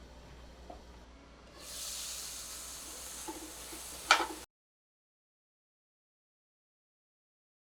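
Vermicelli upma sizzles steadily in a pan as it is sautéed, the hiss rising after a quiet start and running a few seconds with a sharp clack near the end before cutting to silence.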